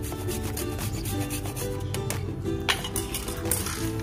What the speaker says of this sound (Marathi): आता आपण तीळ आणि शेंगदाण्यामध्ये जायफळ किसून घेऊया।